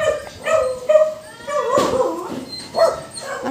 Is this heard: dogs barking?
yes